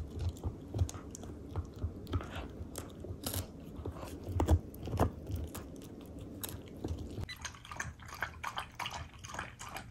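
A Shiba Inu gnaws on a bully stick, giving close, irregular crunching and wet chewing bites, followed by lapping and slurping sounds as the dog drinks water.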